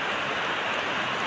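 Heavy typhoon rain pours steadily and loudly on surfaces, a dense unbroken hiss of drops with no gaps or voices.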